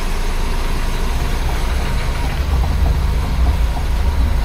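A BMW 2002 engine settles at a high idle around 1300 rpm, a steady low rumble held close and constant with no voices over it.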